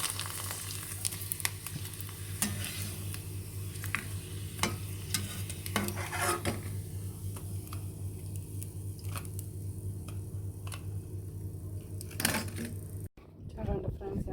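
Sun-dried vadiyalu crisps frying in hot oil, a steady close crackling sizzle with scattered pops and bubbling, a low hum underneath, running continuously before cutting off near the end.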